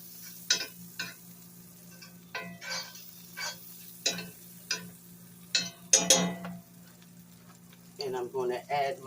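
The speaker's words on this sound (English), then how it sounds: "place some butter in the pan. This is garlic butter that I place in the pan." Garlic butter heating in a pan, a soft, low sizzle running beneath a series of separate clicks and knocks, ending in a voice that sounds like a quick remark.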